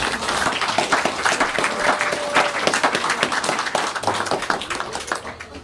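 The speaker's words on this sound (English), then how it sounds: "Another round of applause for Kalapu Fiu and the Alatini brothers." Audience applause at a community event celebrating performers, dense steady clapping from a crowd filling the whole stretch, loud and close with a faint voice briefly underneath.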